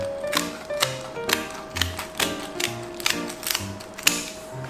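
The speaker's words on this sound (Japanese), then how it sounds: "包丁じゃちょっとこの辺はなんかすごい硬いんでハサミでやります。" Kitchen scissors snip through the very hard skin of a fish in a run of crisp, ratcheting clicks and crunches, close and fairly quiet with no talk.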